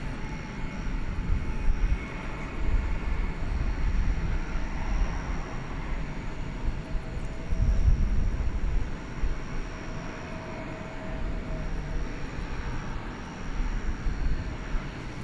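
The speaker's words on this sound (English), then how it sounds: "Here comes Cathay Pacific. Flight 875, it's an A350-1000 going to Hong Kong." A Cathay Pacific Airbus A350-1000 jet at DFW Airport at night gives a continuous broad engine rumble with a faint high whine, steady and moderately loud throughout.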